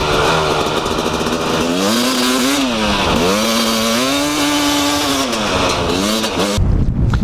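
A KTM 300 EXC two-stroke dirt bike engine under riding, loud and close, its pitch rising and falling in repeated revving surges before cutting off near the end.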